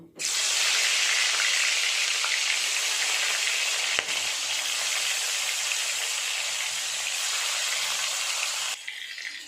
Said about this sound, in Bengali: তেল গরম হয়ে গেছে, মাছগুলো আগে ভেজে নেব।